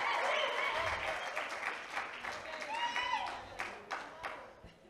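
A church congregation claps for a preacher during a Kinyarwanda-language sermon: a loud burst of many hands that slowly thins out, with a voice talking over the clapping.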